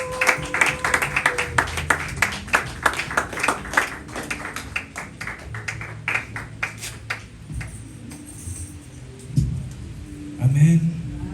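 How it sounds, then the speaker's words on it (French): A church congregation at a Pentecost service claps and cheers in a burst of applause that gradually thins out, mixed with voices and scattered shouts. "Est-ce qu'on peut acclamer pour le serviteur?"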